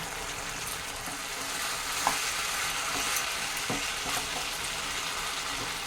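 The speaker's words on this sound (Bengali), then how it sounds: "এটাকে ভালো করে নেড়ে চেড়ে দিচ্ছি" Garlic paneer with tomato ketchup and a little water, frying in a pan while it is stirred: a continuous sizzle close by, with occasional light scrapes and taps of the spoon.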